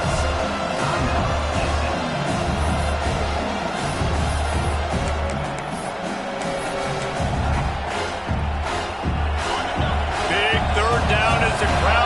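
Stadium crowd at a college football game between SMU and Washington roars steadily behind the defense late in the game, a dense sustained cheer throughout, mixed with commentary.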